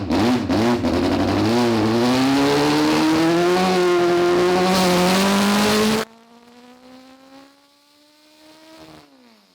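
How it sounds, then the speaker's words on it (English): All-motor Honda engine running on a mix of M1 methanol and nitromethane, revving hard on a dyno with a loud, steadily climbing pitch, then cutting to a quieter, fading wind-down. "Next up, we have an all-motor Honda running on a mix of M1 methanol and nitromethane."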